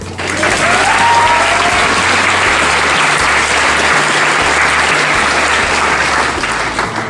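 A large audience at a Key Club Illinois motivational speech breaks into sustained, loud applause, dense clapping filling the whole stretch without a break, with a low hum underneath.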